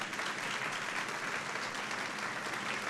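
Continuous applause from an audience after a keynote lecture, a dense, even wash of clapping that stays at a constant level throughout with no speech over it.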